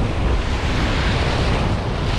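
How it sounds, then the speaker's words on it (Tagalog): Strong sea waves crash and roll onto the shore at a coastal fishing spot, a continuous loud roar of surf blended with heavy wind buffeting the microphone. "Malakas ang alon"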